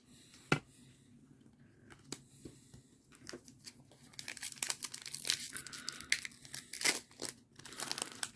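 Trading card booster packs being torn open at a desk, close crinkly foil rips and crumpling that start sparse and grow into a busy run of tearing, with no talk.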